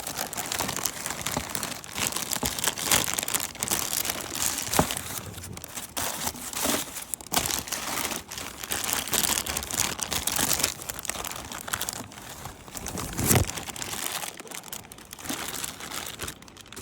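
Bubble wrap crinkles and rustles continuously as it is handled around a new fuel pump module for a 2019 Yamaha Kodiak 700, dense close crackling with occasional sharper pops, no talking.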